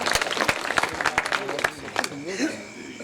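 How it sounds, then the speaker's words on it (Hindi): Audience applause at a Hindi poetry recital, a dense patter of many hands clapping close by, with a voice starting up toward the end. "जोरदार तालियां बजाकर एक बार पुनः।"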